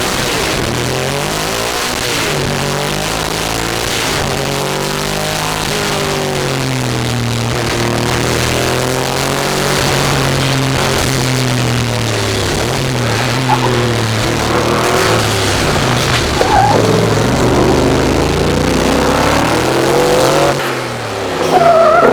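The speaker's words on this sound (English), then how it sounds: "let's take a look at Roger really pushing the car hard on dry track" A twin-turbo Audi A4 race car driven hard on a dry track, its engine loud and close, revving up and down through repeated gear changes with bursts of acceleration and tyre squeal near the end.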